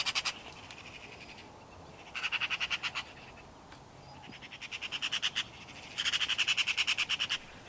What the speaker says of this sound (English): The other birds were obviously upset